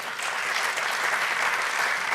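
A lecture audience applauds Luís Alberto Urrea at a Latino leadership lecture, a full, sustained wash of many hands clapping at even loudness, with no speech over it.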